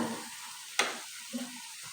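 Pitha batter frying in oil over a medium gas flame, a soft continuous sizzle broken by a single sharp clink and a faint scrape, quiet and close.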